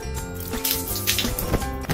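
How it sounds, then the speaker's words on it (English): Running water pours over a juice-stained T-shirt made of quick-dry, stain-resistant fabric, a steady close splashing with small bursts as the cloth is rinsed. "You can wash it with water like this."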